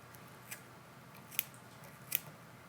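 Scissors trimming thread on a fly-tying hook while a pike and musky popper is tied. A few quiet, crisp snips are spread out over a soft background hiss.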